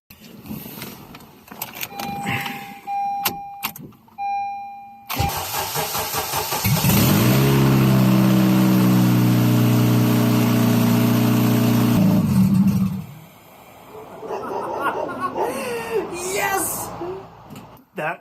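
A Honda K20Z3 engine swapped into a 2011 Honda CR-Z cranks and fires for its first start, running loud and steady for about eight seconds before shutting off, with people talking before and after.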